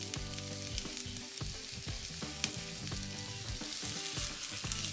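Onions fry in oil on a steel flat top griddle, a steady close sizzle with occasional scraping and stirring clicks, no talking.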